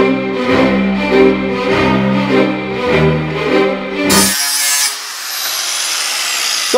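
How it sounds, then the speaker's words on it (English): A loud angle drill fitted with a small grinding wheel whines with a steady harmonic drone and pulsing rhythm, then cuts to a harsh, high grinding hiss against metal. "I've got an angle drill with a little wheel stuck on it"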